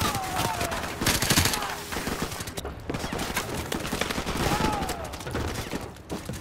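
Rapid gunfire bursts in a Modern Warfare match, dense overlapping shots and impacts running throughout at steady loudness, with faint voice fragments underneath.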